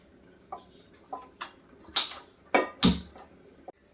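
A gas stove being lit under a pan set out for frying mackerel: a few light clicks, then several sharp bursts as the burner catches, close and fairly loud against a quiet kitchen.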